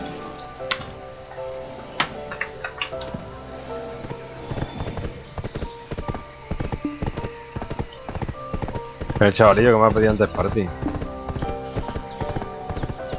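Horse hooves clip-clop in a video game, a steady run of sharp clicks through the whole stretch with a brief louder burst midway, while a voice talks over them.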